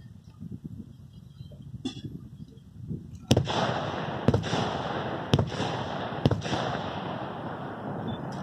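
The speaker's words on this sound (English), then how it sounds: "Request artillery support." Artillery fire in a World War II video game pounds out about five sharp heavy booms spaced roughly a second apart, each with a rolling rumble tail over steady low battlefield noise.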